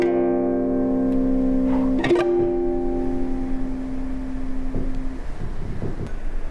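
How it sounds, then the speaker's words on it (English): A guitar chord sounded entirely in artificial harmonics, bright bell-like tones ringing out together after a quick strum and sustaining for several seconds, with a few softer picked notes following. "In example 9, we're going to sound our chord using nothing but artificial harmonics."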